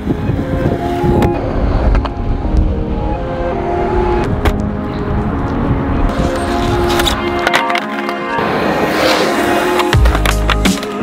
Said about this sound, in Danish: Og så blæser det fuldstændig vanvittigt meget.